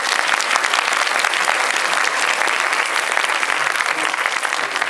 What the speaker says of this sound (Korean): 한번 또 크게 한번 박수 한번 보내주시고요